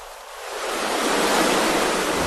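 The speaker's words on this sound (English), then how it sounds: "The gushing waterfall further upstream seems insurmountable." A gushing waterfall roars with a constant wash of rushing water that swells from slightly softer to a loud, sustained hiss within the first second and then holds steady, with no voices.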